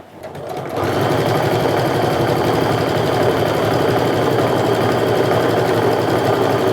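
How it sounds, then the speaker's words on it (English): Loud, close sewing machine stitching a pocket to a bag lining: after a quiet start the motor kicks in and runs at a steady, fast, unbroken drone with no speech. "I'm also going to go ahead and stitch along the bottom of the pocket to secure it to the lining"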